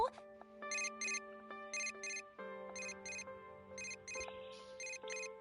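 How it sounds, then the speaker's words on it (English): A cell phone ringtone in the video game Persona 4: Dancing All Night, a melodic electronic tune with repeated bright chiming bursts playing steadily over soft background tones. "A familiar ringtone sounds from my cell phone, inside my bag."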